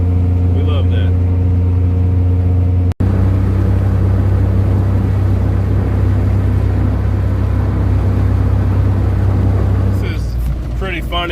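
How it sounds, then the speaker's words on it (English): Car engine running steadily while driving, a loud constant low hum and drone with a brief dropout, road noise beneath and a faint voice near the end. "But it's all good because the car's running great."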